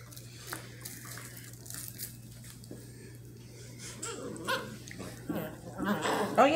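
Eight-week-old basset hound puppies playing in a pile, with soft whimpers, snuffles and small yelps that grow louder and busier toward the end, over a steady low hum and a person talking.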